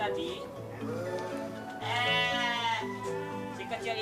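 A Garut sheep bleats loudly and close by in long, wavering cries, with people talking over and between the calls.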